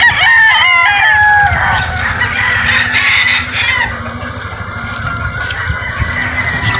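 A rooster crows loudly up close at a gamefowl farm, followed by chickens clucking and murmuring nearby, with no talking.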